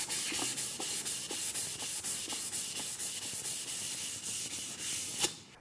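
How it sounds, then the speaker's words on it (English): Rhythmic, steady scrubbing of a green Scotch-Brite pad across an aircraft fuselage panel, a close, loud abrasive rub repeating in even strokes about every third of a second. "I'll give it a light grained finish by using a green Scotch-Brite pad"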